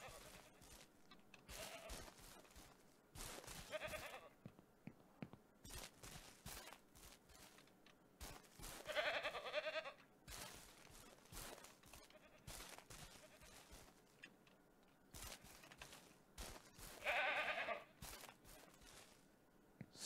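Goats in the Ranch Simulator video game let out three separate bleating calls spaced several seconds apart, over a busy background of footsteps and clicking.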